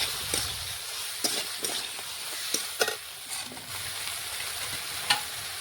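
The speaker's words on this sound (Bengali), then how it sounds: "আবারও নাড়াচাড়া করে একটু রান্না করে নিচ্ছি সবজি।" Drumstick vegetables sizzle in a pan while a spoon stirs them, scraping and clacking intermittently over a steady frying hiss.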